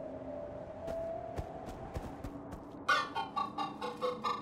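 Chickens cluck in the Minecraft Story Mode video game, a series of short, clipped clucks in quick succession over a soft ambient backdrop.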